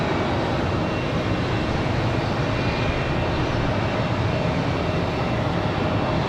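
A Boeing 737 MAX rotates and climbs away on a windy day at Raleigh-Durham, a dense, continuous jet roar sitting close and steady across the whole stretch, with no talking.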